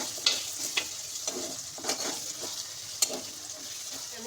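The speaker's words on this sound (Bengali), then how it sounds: "পেঁয়াজটা আমি একদম লাল করে ভেজে নেব" Chopped onions fry in a pan with whole cardamom pods, cumin and ground coriander, a steady close sizzle broken by a few sharp spatula scrapes and stirs, with no talking.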